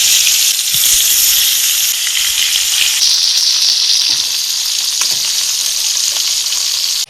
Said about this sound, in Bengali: এখন মাছটারে ভাজতে দিয়ে দেব।